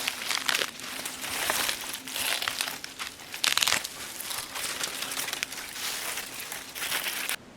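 A dead plant ripped out of the ground at an Australian bush campsite in winter, heard as continuous close crinkling and tearing of dry foliage in several pulling bursts.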